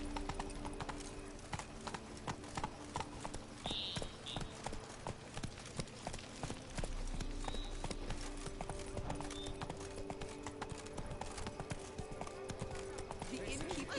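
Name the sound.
horse Roach galloping, hooves clip-clopping, video game Witcher 3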